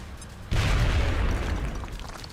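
Grenade explosion in XCOM Long War, a single sudden deep boom that hits after a short quiet moment, then rumbles on and slowly fades over the next couple of seconds.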